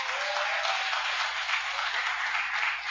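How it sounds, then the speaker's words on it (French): Applause for a parish at a sacred-music concert, a dense, steady wash of clapping from a crowd that holds at an even level for the whole stretch, with no voices over it. "On applaudit très fort pour la paroisse, pour l'initiative."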